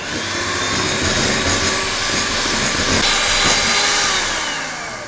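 Butter is creamed for chocolate chip cookie dough, most likely with an electric mixer, which gives a loud, steady, even whirring hum with no pauses.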